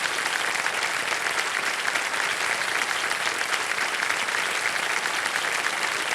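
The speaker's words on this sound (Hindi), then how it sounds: "तालियां बजती रहें" A television quiz show studio audience claps in sustained, dense applause, a loud even wash of many hands that holds steady from start to finish with no voices over it.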